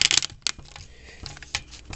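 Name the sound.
keyboard keycaps being fitted back onto keyboard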